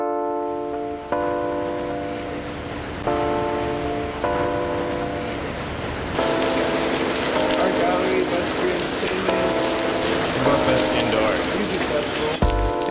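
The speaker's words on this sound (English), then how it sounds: "Plus it's also starting to rain," Rain falls in Singapore as a steady broadband hiss that thickens and grows louder about halfway through, mixed with sustained tonal music and faint background voices.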